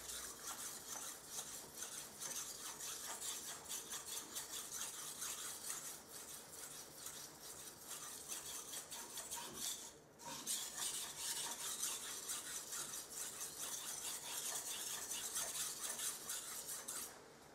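A kitchen knife is sharpened on a whetstone with rapid, repeated scraping strokes. They are faint but continuous, pause briefly midway, then carry on.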